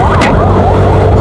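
A loud ambulance siren wails right at the finish line of a road cycling race, over a brief burst of nearby traffic noise.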